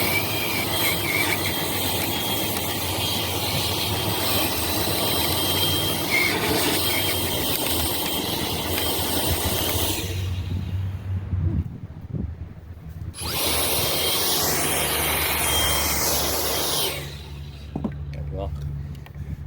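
A Maircle S3 Pro dust extractor's cyclones spin at high speed, giving a loud, steady whooshing roar with low rumble that cuts out briefly twice before resuming at full force.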